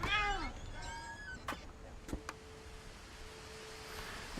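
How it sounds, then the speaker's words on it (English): Cat meowing in the video game What Remains of Edith Finch: a couple of clear, drawn-out meows near the start, followed by a few sharp clicks over a quiet background hum. "I heard a kitty"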